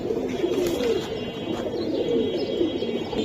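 Pet pigeons for sale, including a pair of Jhuma pigeons, keep up steady overlapping cooing with occasional chirps, close and continuous in a busy flock.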